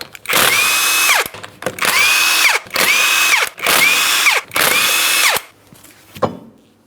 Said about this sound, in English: remove all 5 of your 19mm lug nuts so we can get the wheel off of here